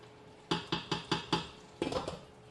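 A spoon knocking against a pot while egusi soup is stirred, five evenly spaced clinks followed by a quicker cluster of rattling taps, close and fairly quiet.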